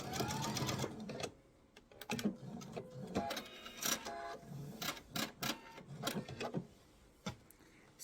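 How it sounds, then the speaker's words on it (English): A sewing machine stitches a laptop sleeve in short, quiet bursts of rapid mechanical clatter separated by brief pauses. "And just finish sewing."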